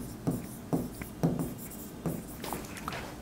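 A pen scratches across paper in short, rhythmic strokes, about six distinct bursts close up and with no talking while the writing goes on.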